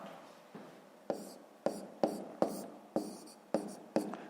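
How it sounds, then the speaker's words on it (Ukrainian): Pen or pencil writing out a fifth-grade math solution on paper, a series of short scratchy strokes with sharper taps roughly every half second, close and quiet, with no talking. "Записуємо так."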